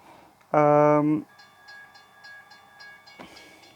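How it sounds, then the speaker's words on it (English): A train on a rail line gives a loud harmonic horn blast, then a steady tonal hum and rhythmic clicking of wheels as it rolls past at a moderate distance. "Train."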